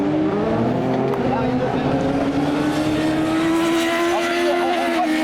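Off-road racing buggies at a Buggy Cup semi-final in Saint-Junien work around a race track, engines droning loudly and continuously with rising and falling pitch as they brake for corners, while a commentator talks over the noise.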